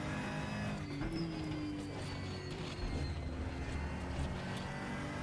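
Aquila CR1 race car engine in the RaceRoom racing game, a steady droning motor that shifts pitch as the car runs, close and constant with no talking.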